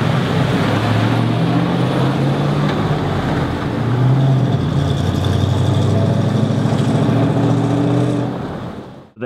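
A Land Rover 101 engine runs steadily close by, a continuous low rumble with a slight rise in revs partway through before it cuts out at the end; no one speaks.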